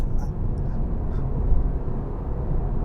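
A 2019 BMW 3 Series diesel accelerating hard to 60, heard from inside the cabin as a steady low engine and road drone with a few faint higher ticks, and no one talking.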